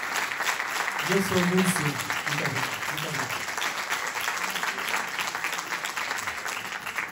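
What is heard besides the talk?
audience applause at a fado gala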